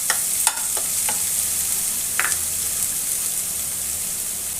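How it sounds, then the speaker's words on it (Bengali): Masala for a catfish (boal) curry sautéing in a pan, a steady close sizzle with a few sharp scraping stirs near the start. "মশলাটা প্রায় কষানো হয়ে গেছে বন্ধুরা।"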